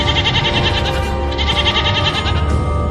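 A frightened young goat kid bleats loudly and repeatedly in a rapid, shaky stream, set over a dense dramatic sound-effect backdrop.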